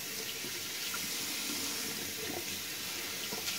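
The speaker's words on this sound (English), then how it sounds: "But first I'm just gonna get the brush wet." Tap water runs steadily into a sink to wet a shaving brush, a continuous close splashing hiss with no talking.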